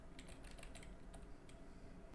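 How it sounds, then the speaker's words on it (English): Keystrokes on a computer keyboard as a command is typed, a quick run of light clicks in the first second followed by a few scattered taps over steady background hiss. "So we type in time test"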